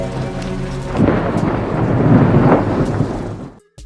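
Rain falls steadily and a loud rolling thunderclap swells and fades in a film scene aboard a ship. There are no voices, and the sound cuts off abruptly at the end.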